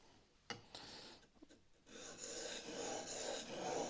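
A steel chisel's micro bevel is worked by hand on an oiled sharpening stone, starting with a few scattered scrapes and knocks, then settling into steady close rhythmic rasping strokes, with no talking.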